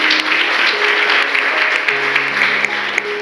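A church congregation claps together in steady, dense applause that lasts the whole moment, with faint musical tones underneath.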